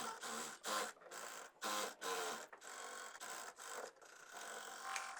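A sewing machine stitching skirt panels cut from suit fabric, running in short bursts of rapid mechanical whirring and clatter with brief pauses between runs, close and steady, with no talk.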